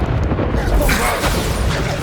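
A Bombarda explosion spell bursts in Hogwarts Legacy, a loud, dense boom with a rumbling, crackling blast that fills the whole moment without any voices.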